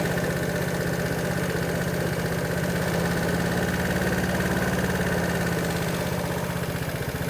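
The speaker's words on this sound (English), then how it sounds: "I was just letting it tick over here to heat up, just to see if the coolant's getting warmer." A Vespa scooter engine ticks over at idle while warming up, its coolant and radiators heating. The low, even engine drone stays close, loud and unbroken throughout, with no voices.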